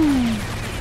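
Rockets and explosions in the video game Serious Sam: Siberian Mayhem make a loud, falling whine over a dense, crackling barrage of blasts.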